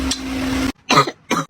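Two short, close coughs follow each other about a third of a second apart, coming just after a stretch of a voice.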